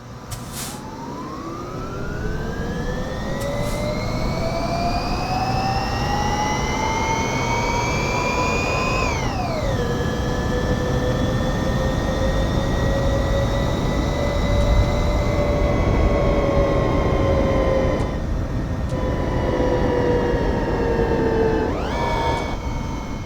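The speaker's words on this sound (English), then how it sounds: "that's using the engine brake there" Electric semi truck in American Truck Simulator, its synthetic motor whine sweeping up in pitch, dropping suddenly, then holding a steady tone under engine braking, loud and continuous with no talking.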